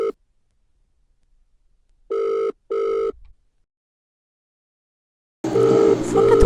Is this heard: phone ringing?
yes